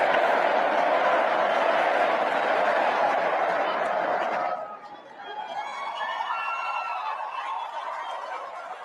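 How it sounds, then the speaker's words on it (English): An auditorium crowd of political supporters at a Trump event cheering and chattering loudly in a dense, continuous roar that drops suddenly midway to a quieter murmur with a few higher voices. "Barron Trump also won over Republicans, with the auditorium of supporters cheering his name"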